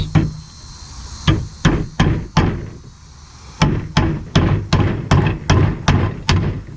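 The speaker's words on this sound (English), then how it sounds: "just gonna nail all these in" Nails hammered into wood while a sawhorse is built: a close, loud run of sharp blows, about four spaced strikes, a brief pause, then a quicker steady series of about nine more, with no talking.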